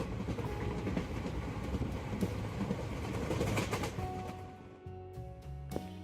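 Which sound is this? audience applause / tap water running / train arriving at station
train arriving at station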